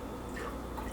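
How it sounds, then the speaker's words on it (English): Broth glugs unevenly from a carton into a measuring cup while cooking a pot roast, a brief close gurgling pour with no talking. "And this pours very weirdly."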